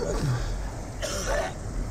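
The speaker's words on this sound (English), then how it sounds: "Someone back there coughing up a lung." A person coughs a couple of times in a rough, hoarse way during military convoy training, heard over steady vehicle or engine rumble and radio-like noise.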